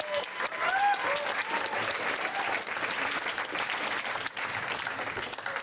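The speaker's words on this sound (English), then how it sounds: "Give her another round of applause" An audience at a poetry night applauds a poet after her reading, a dense, steady wash of clapping that holds through the whole stretch, with a few brief voices and cheers rising out of it.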